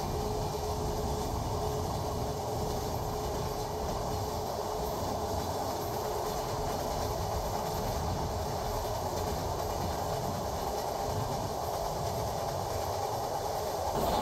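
Heard from inside, the Rupashi Bangla Express passenger train runs along with a steady, continuous rumble and rolling wheel noise at moderate loudness, and no one speaks.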